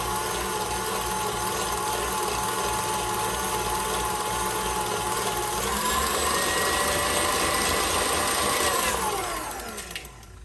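A stand mixer with its attachment whirs steadily through marble cake batter in a final mix, a loud continuous motor drone that rises slightly then winds down near the end, no voices.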